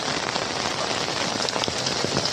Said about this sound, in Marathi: खूपच पाऊस चालू आहे.